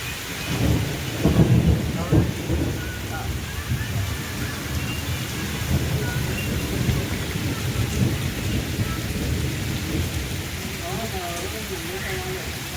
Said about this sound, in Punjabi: ਲੋ ਭਰਾਵੋ ਰੋਕਤਾ ਕੰਮ ਮੀਂਹ ਨੇ ਮੀਂਹ ਵੀ ਤਸੱਲੀ ਵਾਲਾ ਪਿਆ